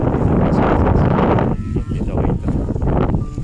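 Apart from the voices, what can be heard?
wind noise on microphone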